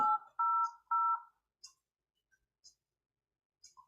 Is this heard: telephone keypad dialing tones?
yes